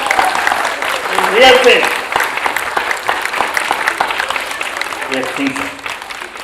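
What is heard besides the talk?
audience applause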